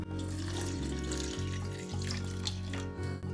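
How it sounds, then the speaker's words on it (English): Water poured from a cup into a small pot holding fat for an arnica and rosemary ointment, a steady close splashing stream that runs throughout. "I'm going to add a cup almost full of water."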